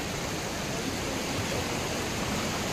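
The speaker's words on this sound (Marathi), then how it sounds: "नदीचं पाणी कसं या भर उन्हाळ्यामध्ये पण वाहत आहे" River water flowing in summer near Kalyan, a dense, even rushing wash of noise, steady and unbroken throughout the brief stretch.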